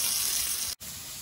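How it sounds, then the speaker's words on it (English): White fish fillet frying in a pan, a steady loud hiss and sizzle with a brief cut in the middle, close to the pan and heard alone. "Now continue frying the rest."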